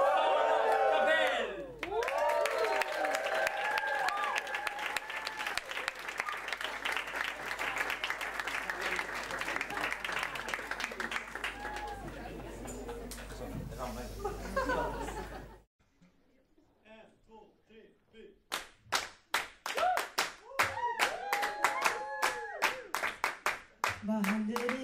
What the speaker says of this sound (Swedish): En varm applåd för första bandet som har kommit hela vägen från Svalöv,